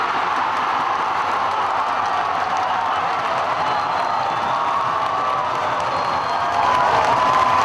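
A stadium crowd cheers euphorically on a full-moon night after Iranduba's hard-fought women's football win over Corinthians, a steady dense roar of shouting fans that swells a little louder near the end.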